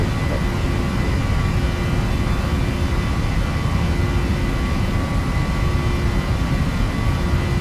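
A Boeing 737NGX flight simulator at takeoff thrust on the roll from Sydney, with a loud, steady jet engine roar and a low rumble that holds constant throughout.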